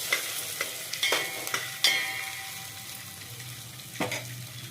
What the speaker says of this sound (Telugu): అటు ఆనియన్స్ కూడా రోస్ట్ అయిపోతాయి